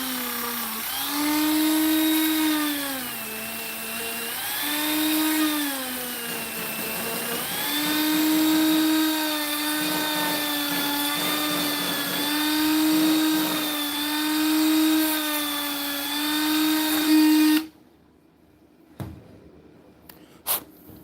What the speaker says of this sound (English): I'm just scuffing up the rubber at the moment.